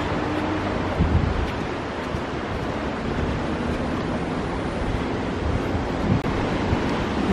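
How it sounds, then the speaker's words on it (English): Ocean surf at a beach in Noosa, Australia, where surfers ride the waves: a dense, steady wash of breaking waves mixed with strong wind buffeting the microphone, loud and continuous with no talk. "there's surfers down there. Catching the gnarly waves"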